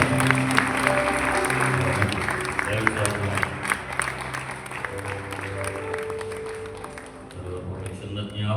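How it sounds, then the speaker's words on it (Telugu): An audience at a pastors and leaders conference in Eluru claps in a sustained round of applause, mixed with a speaking voice and background music. "గట్టిగా గట్టిగా చప్పట్లు కొట్టాలి."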